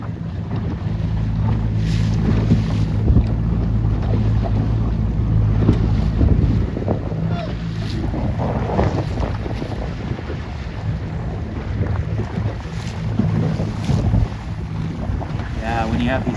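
A C420 sailing dinghy beats close hauled through side swells, with strong wind buffeting and continuous rushing water around the hull.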